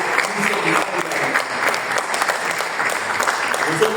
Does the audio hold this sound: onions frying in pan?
no